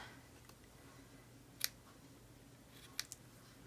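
Scissors trim paper at a crafting table, with a few quiet, crisp snips spaced apart against a faint background.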